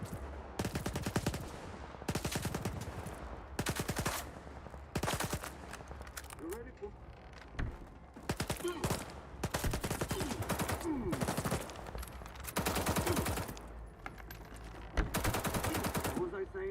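Gunfire in the video game S.T.A.L.K.E.R. 2 against Monolith fighters: repeated loud bursts of automatic fire in uneven clusters, separated by short gaps with quieter background sound.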